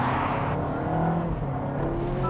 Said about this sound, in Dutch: dan dipt hij af en toe eventjes de motor en dan is het net alsof hij schakelt